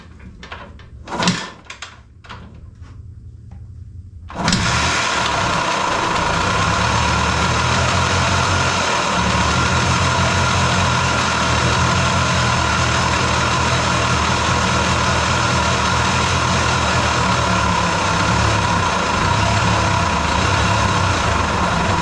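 A Yamaha DT250A two-stroke motorcycle engine, run with no oil, gives a few clanks and knocks and then fires up at about four seconds, settling into a steady, loud, close idle that continues alone to the end.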